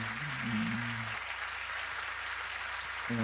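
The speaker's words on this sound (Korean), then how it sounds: "우리 해외 지사에 있는 분들에게도 박수로 우리 축복합니다." A church congregation at a thanksgiving worship service claps in moderate, somewhat distant applause, with sustained musical tones under it at the start and returning at the end.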